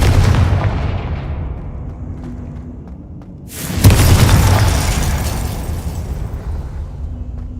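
Confringo fire spell in Hogwarts Legacy exploding as a loud, close boom with a sharp burst, then a long rumbling decay, following an earlier blast fading out, with no voices.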